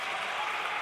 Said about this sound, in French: Applaudissez très très fort pour Génération Miracle.